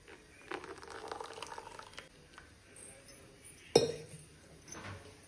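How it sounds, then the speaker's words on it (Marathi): One litre of colostrum milk is poured from a metal one-litre measure back into a cooking pot, giving a soft liquid splash and trickle with a sharp metallic clink of vessel on pot near the end. No one speaks. "आणि आता आपण ह्या पातेल्यामध्ये होता तसा परत ओतूया"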